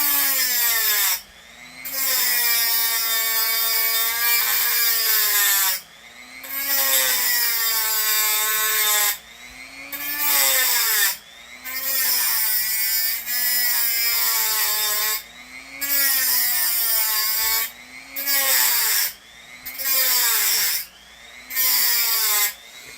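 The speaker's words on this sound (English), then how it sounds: "This Dremel doing its own thing." Dremel rotary tool running while a blade is modified, whining in repeated bursts with pauses between them. The motor pitch sweeps up and down as it speeds up and slows down.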